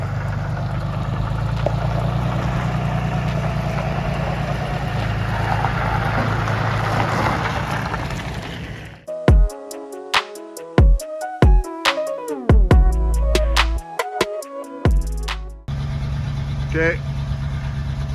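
A 1978 Ford F150 pickup engine runs at a steady idle for about half the time, close and loud, before the sound cuts to a sparser mix of other noises.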